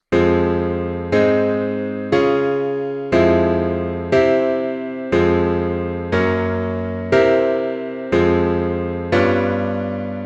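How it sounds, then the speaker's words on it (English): Sustained chords played one after another in an even rhythm, each struck cleanly and slowly decaying before the next, about ten in all. "So that entire chord progression under the B melody sounds like this"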